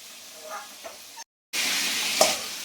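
Prawns fry in hot oil with a steady, close sizzle, briefly cut by a moment of silence, then return as a louder crackling hiss with a sharp utensil clink.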